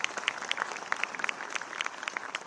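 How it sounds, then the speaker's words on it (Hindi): Audience at a National Youth Day event hall breaks into steady applause, a dense patter of many hands clapping continuously at moderate loudness with no voices over it. "एक बार जोरदार तालियां बजा दीजिए"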